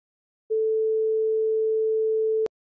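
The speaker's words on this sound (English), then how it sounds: "hear the sine tone I'm sure you're tiring of just as quickly as I am" A pure sine tone generated by SuperCollider code sounds as one steady, unwavering pitch for about two seconds, beginning and ending abruptly with a small click at the cutoff, alone in silence.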